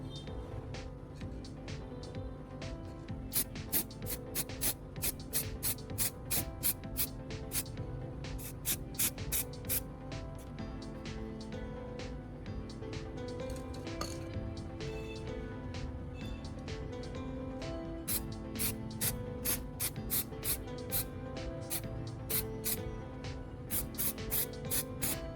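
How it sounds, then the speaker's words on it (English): Red spray paint hisses from an aerosol can onto a repaired plastic fender in repeated short bursts with steady rhythmic pauses, close and fairly quiet, with no talking. "I'm applying the red spray paint over the repaired areas"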